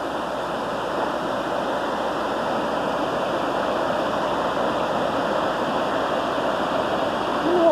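Water rushes steadily down a waterfall, a loud, continuous broadband roar heard close by without pause or change.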